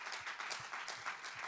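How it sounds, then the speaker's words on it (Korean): Church congregation claps during a Korean Sunday service, a brief, soft burst of many hands applauding together. "우리 하나님께 감사와 영광의 박수를 올려드리겠습니다"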